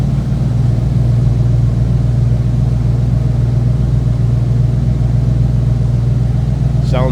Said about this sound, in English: Sounds good, nice throaty exhaust note.